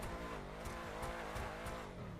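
Engine of a Canis Freecrawler off-road vehicle in GTA Online revs with the handbrake on, a faint, steady growl with slight rhythmic swells over a couple of seconds.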